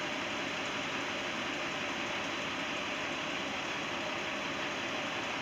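A minivan's engine running steadily with the air conditioning switched on, a dense, constant broadband whir and hum that holds unchanged throughout, with no voices.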